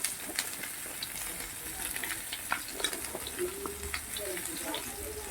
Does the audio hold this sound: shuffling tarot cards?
no